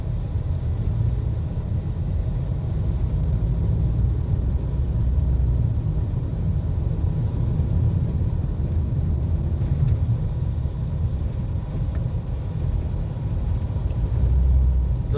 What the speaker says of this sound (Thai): รถไหลได้ตัวสวยเนาะ